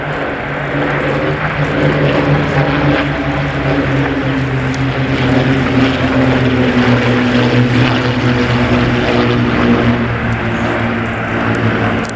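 Spitfire and Hurricane fighters fly past at the RIAT air show at Fairford, joining up with a Lancaster bomber. Their propeller engines make a loud, steady, droning roar that holds throughout, with no talk.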